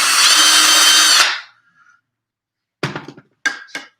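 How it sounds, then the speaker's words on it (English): A power drill bores a small pilot hole for a screw in a DIY craft mailbox, a loud, close whir lasting about a second and then stopping, followed by a few short knocks and clicks. "we're going to just make a little pilot hole"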